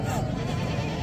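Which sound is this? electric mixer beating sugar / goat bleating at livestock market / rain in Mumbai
goat bleating at livestock market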